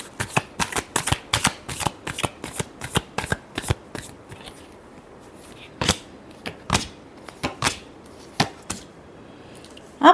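Tarot cards shuffled in quick riffling bursts, a dense run of crisp flicks for the first few seconds, then sparser, separate snaps with pauses, close and clear with no talking.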